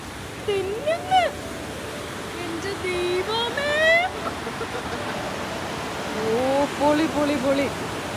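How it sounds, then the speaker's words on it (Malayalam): Water rushes steadily at a waterfall in Manitoba, Canada, a continuous moderate roar with people talking intermittently over it. "നമുക്ക് സൗണ്ട് കേൾക്കാൻ പറ്റുന്നുണ്ട്, വെള്ളത്തിന്റെ നല്ല സൗണ്ട് ഉണ്ട്."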